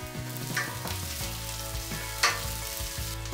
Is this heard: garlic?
yes